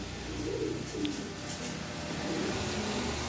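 Male pigeon, a club pigeon kept among other birds in a loft, cooing in low repeated rolls under steady background noise; no one speaks.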